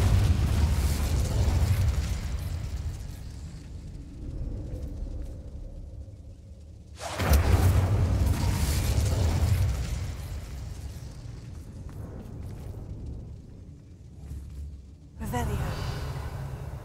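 Incendio fire spell in Hogwarts Legacy, a loud whooshing blast among ambient tomb rumble, followed later by a second burst, with voices speaking between.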